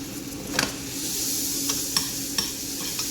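Food sizzles in foaming hot butter in a pan, a bright steady crackle close up with a few light utensil taps and pops scattered across it.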